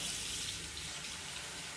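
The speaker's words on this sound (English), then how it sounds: "look, a quick rinse" Hands rinsed under a running tap after foaming with soap up to the wrists, a steady close hiss of flowing water splashing continuously with no talk.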